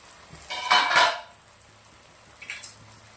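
A metal lid is lifted off a kadai of cooking pulao, making a clanking scrape, then a faint clink a moment later, in an otherwise quiet kitchen.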